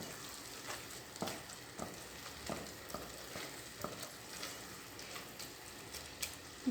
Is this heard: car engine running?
no